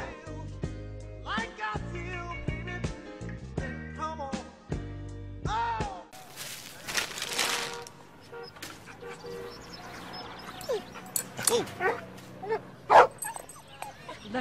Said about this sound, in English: Look at the cute dog.